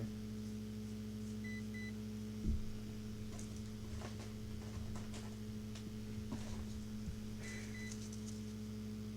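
A soldering station left on too long, giving off short high electronic beeps in two brief bursts over a steady mains hum, with faint workbench clatter and handling noise in a quiet room.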